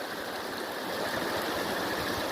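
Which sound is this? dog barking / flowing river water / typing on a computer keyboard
flowing river water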